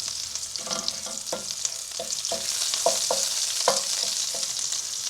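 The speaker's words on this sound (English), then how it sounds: "I'm just going to fry that off in the oil to let the flavors bloom a little bit" Spices frying in oil for a Thai red curry, stirred with a wooden spoon: a soft, steady sizzle broken by a series of distinct scraping strokes at an irregular rhythm, close up, with no talking.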